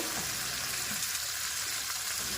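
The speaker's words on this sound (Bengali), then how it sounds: "মশলাতে আমার তেল ছেড়ে দিয়েছে মাংসটা দিয়ে দেবো" Chicken fries in oil with spiced masala, a dense, steady sizzle that carries on evenly throughout, with no voices.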